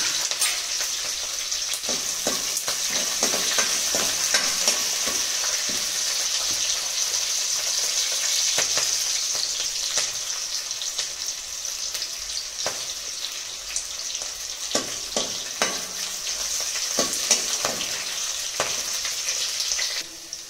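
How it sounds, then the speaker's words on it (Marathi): A tadka of cumin, green chillies, garlic and curry leaves sautés in oil after mustard seeds have popped, a bright steady sizzle with frequent light crackles and spoon scrapes throughout. "आणि फोडणी 1-2 मिनिटं परतून घेऊया"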